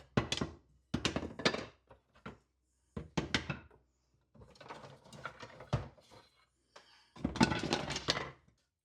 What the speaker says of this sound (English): So let me rifle through these scraps and see if I can find something good.